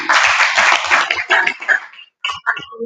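An audience at a press conference for the National Board for Technology Incubation claps in steady applause for about two seconds, then it quickly fades into a few scattered claps.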